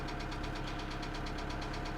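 Diesel engine of a 2008 Kia Sedona 2.9 CRDi idling with a bad knock and fault code P0016, a steady rapid rhythmic knocking under a continuous engine drone, close and alone.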